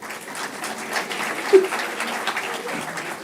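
Sustained applause from a convocation audience at a business school graduation ceremony, a dense even wash of many hands clapping with one louder spike midway and faint crowd murmur beneath.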